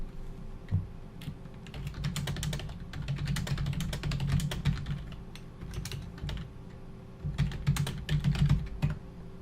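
Rapid computer-keyboard typing of email text, a dense run of close key clicks with brief pauses, over a low steady hum and with no talking.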